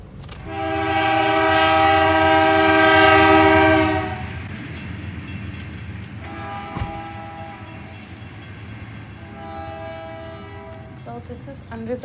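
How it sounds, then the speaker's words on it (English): A train's horn blares loud and sustained for several seconds, then the train rumbles past with a steady, clattering roll. Two more shorter horn blasts follow, somewhat farther off. "Here's the train now."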